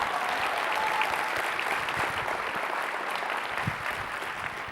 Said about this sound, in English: Give her one big round of applause one more time.